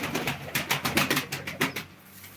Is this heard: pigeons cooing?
yes